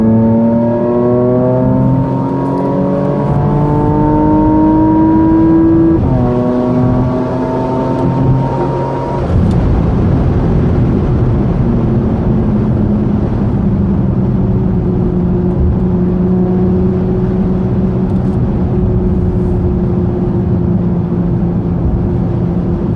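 A Porsche Macan GTS accelerates hard through several gears. Loud, close engine notes rise in pitch, then drop at each upshift before settling into a steady cruising roar.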